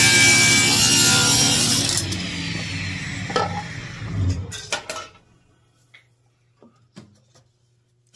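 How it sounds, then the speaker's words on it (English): Hand-sawing an edge off a piece of wood while building a wooden toy train: a steady, loud rasping saw stroke runs for several seconds, then slows and fades, with a few light knocks of the offcut and tool afterward. "You just want to trim off that edge on that piece of wood to start out with."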